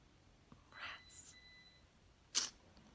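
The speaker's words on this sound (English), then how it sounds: "now you're going to get beeping because the upses are going to be beeping" After a power outage, a UPS unit gives a single faint, steady electronic beep lasting about a second in a quiet room, framed by soft rustling noises.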